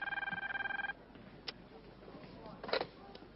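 An old-style telephone bell rings in a rapid metallic trill for just under a second, then cuts off, leaving faint room noise with a few soft clicks and a brief rustle.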